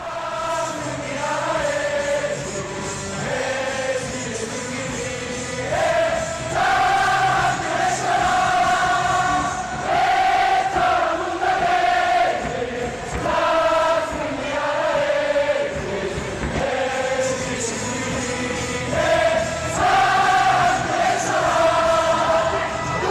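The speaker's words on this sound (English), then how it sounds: "they use these things called thundersticks to bang together to make noise, and there are dedicated cheering seats for those who want to join in" A KBO baseball crowd in Korea cheers with thundersticks, a dense stadium roar carrying loud, rhythmic, sung chants in repeating phrases across the whole stretch, with no single voice standing out.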